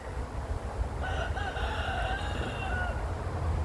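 A rooster crows once at moderate distance, a rising then drawn-out call over a low steady rumble of background noise.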